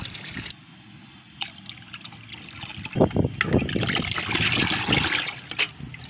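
Rice water poured into a container of water for homemade organic fertilizer, quiet at first, then a louder splashing trickle and glugging stream for about three seconds, with no one talking.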